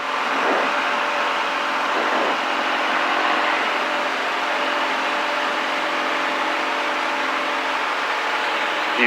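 Small plane engine droning steadily through a STOL takeoff run, a constant mid-pitched hum with a faint whine, loud and uninterrupted from start to finish.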